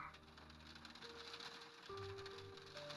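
Soft rain falling outside a parked car at night, a faint continuous patter with a few low tonal hums in the background, no voices.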